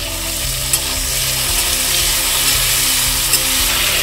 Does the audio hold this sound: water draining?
no